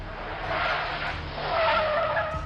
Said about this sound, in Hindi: गाड़ी ने पूरी स्पीड से यू टर्न लिया